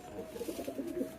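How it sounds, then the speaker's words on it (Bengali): A pigeon panting in summer heat gives soft, low, repeated coos in a quick rhythmic series, close but faint. "এই যে দেখেন এই কবুতরটা গরমে কিভাবে হাঁফাচ্ছে দেখেন।"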